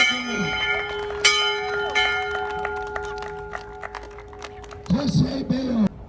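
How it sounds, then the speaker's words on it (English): A graduating student rings a bell at a Class of 2023 ceremony; a single bright strike rings out and sustains with a long decaying tone, with crowd noise and cheering rising near the end. "Mercedes, ring that bell."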